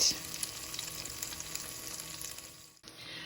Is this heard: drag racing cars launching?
no